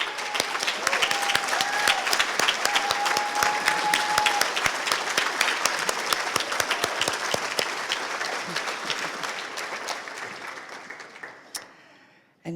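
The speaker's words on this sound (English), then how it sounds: "Please stand so we can applaud for you." A large luncheon lecture audience applauding steadily and loudly, dense clapping that holds for several seconds before tapering off and stopping at the end.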